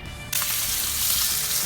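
Duck breasts sizzle in a hot cast iron pan, a steady broadband frying hiss that bursts on suddenly after a brief quiet moment and holds loud and close.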